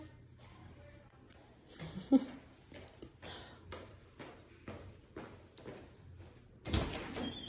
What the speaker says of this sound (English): Okay, go ahead and come open the door.